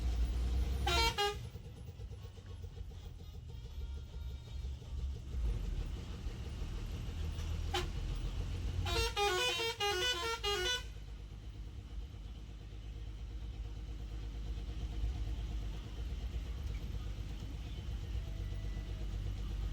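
Kerala interstate bus travelling a hilly road from Athirappilly to Valparai, its engine rumbling steadily while loud multi-tone horn blasts ring out twice, a short burst early and a longer honk sequence midway, with a brief tap between.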